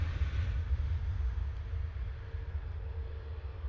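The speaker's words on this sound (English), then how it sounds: "EIDPF departing there with flight 613 to Brussels" An airliner, registration EI-DPF, departs Manchester Airport as flight 613 to Brussels, a steady, moderately loud low-pitched engine rumble with slight pulsing and no voices.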